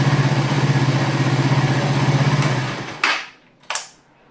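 A Suzuki GSX R150 motorcycle engine idles with a rapid, even, throbbing pulse at close range, then cuts off, followed by two short clattering knocks in the quiet.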